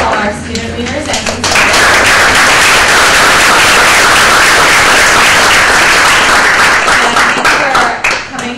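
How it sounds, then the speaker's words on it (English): A crowd at a student and faculty literary reading gives a loud, sustained round of applause for student leaders, dense clapping that swells after a brief quieter start and holds near and full before tapering slightly. "I'd like to give a round of applause to all our student leaders."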